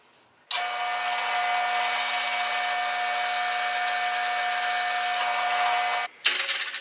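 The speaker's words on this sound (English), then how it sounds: "now I'm going to drill through it." A power drill bores a hole through a bike cassette, a steady loud high-pitched whine and grind starting abruptly, holding for several seconds close up, then cutting off with a brief clatter.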